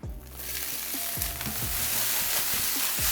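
Garlic-infused extra virgin olive oil sizzling in a hot skillet, a bright, continuous hiss that builds and holds steady, close and moderately loud, with a few soft clicks and no speech.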